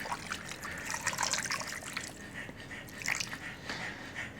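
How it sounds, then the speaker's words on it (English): Two cups of water poured into a crock pot while meal-prepping a cheesy chicken pasta bowl, giving a steady splashing, trickling wash with a couple of louder surges, close and moderately loud. "this is 2 cups of water right here."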